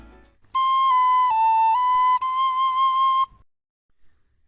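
A single clear whistled melody, sustained notes with a quick ornamental turn midway, clean and close with no background sound.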